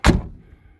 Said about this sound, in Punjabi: ਤੱਕੀ ਦੀ ਆਵਾਜ਼ ਦੇਖੋ